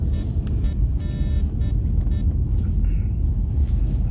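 A car drives along pulling into a McDonald's, its engine and road rumble a steady loud drone close by, with a few faint higher tones over it and no speech.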